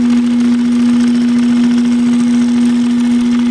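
Electric sewing machine running steadily to stitch a row along a seam on a stove jack for an Otter Hub portable ice house, a constant close motor hum with a strong tone and no talking.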